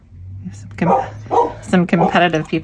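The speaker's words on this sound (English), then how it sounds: "My apologies for the barking dog." A dog barks repeatedly at a mail delivery, sharp close yips and woofs mixed in with a voice speaking over them.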